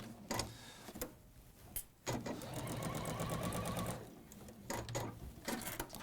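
A sewing machine stitches around the neck hole and armhole of a garment, running in close mechanical bursts of rapid needle clatter that start and stop with brief pauses.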